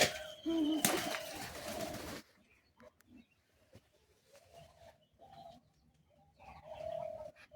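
Pigeons coo softly in a loft, low repeated calls under scattered chirps after a louder burst of clattering and wing noise at the start.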